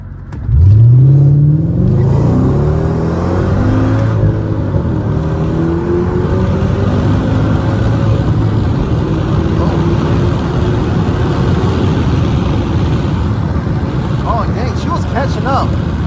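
A Mercedes W211 E55 AMG V8 launches uphill. Its exhaust roars loud and close as the revs climb steadily through the gears, then holds a sustained drone.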